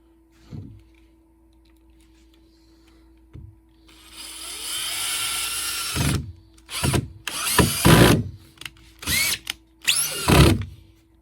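A power drill drives screws into wood while mounting a homebrew pinball mini-playfield, starting with a few light knocks, then a sustained whirring run followed by several short, loud bursts of the motor spinning up and stopping close by.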